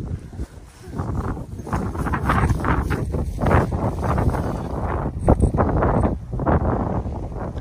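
Outdoor wind roars and buffets the microphone in strong, uneven gusts on a breezy day, filling the whole stretch with loud rumbling noise and no voices.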